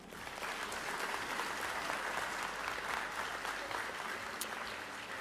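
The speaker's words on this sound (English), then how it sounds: "Big round of applause for Miss Buhai" Steady audience applause rings out at a school district Teacher of the Year celebration for an elementary school teacher, a dense, even wash of many hands clapping that holds without pause throughout.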